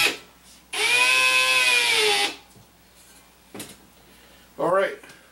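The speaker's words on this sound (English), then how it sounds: "Not full blast, just nice and slow putting these screws in." Power drill slowly driving pan head screws into a box fan filter holder, one long steady whining run followed by a shorter burst, with quiet handling noises between.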